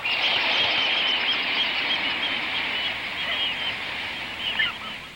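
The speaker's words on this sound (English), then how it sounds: "Of all the birds at the estuary, perhaps the noisiest and the most conspicuous are the oyster catchers" Oystercatchers at an estuary calling in a continuous shrill, piping chorus, many birds overlapping in loud, insistent peeps that hold throughout and swell slightly near the end, with no talk.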